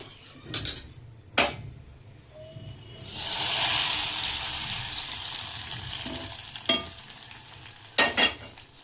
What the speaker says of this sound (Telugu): నేను ఈ పప్పుకు తాలింపు వేస్తున్నాను.